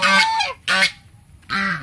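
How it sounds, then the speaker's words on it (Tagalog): Ducks on a native pig farm give three loud, close, nasal honking calls in quick succession with short gaps between them. "May mga itik din kayo dito, sir."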